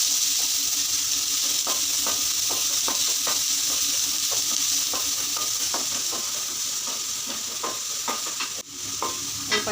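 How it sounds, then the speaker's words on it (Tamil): Sliced onions and cumin sautéing in a pan hiss with a steady, loud frying sizzle, while frequent spatula strokes scrape and tap close by, with no voices. "நல்லா வதக்கி விட்டுறோம்"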